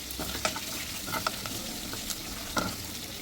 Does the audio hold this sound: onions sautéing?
yes